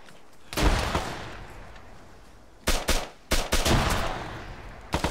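Gunfire in a military shooter game, several sharp bursts: one volley early, then a cluster of loud cracks and rattling shots mid-clip and a final burst at the end, separated by quieter stretches.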